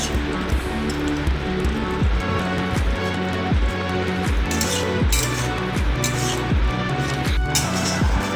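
A spoon stirs tomato chutney with dates, cashews and raisins in a pan, making a steady rhythm of close metallic clinks and scrapes that continues without pause.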